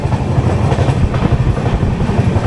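A passenger train rumbles steadily at Nagercoil Town station, a loud, continuous low roar of wheels and carriages with faint rhythmic clatter and no voices.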